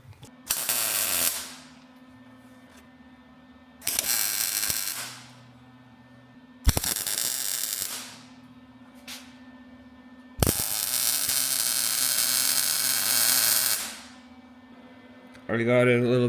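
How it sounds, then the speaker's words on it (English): Welding flanges onto a race car exhaust, with four long bursts of crackling, hissing arc noise separated by short quiet gaps and a steady low hum throughout. "getting ready to weld up this exhaust. We got our flanges there to weld on."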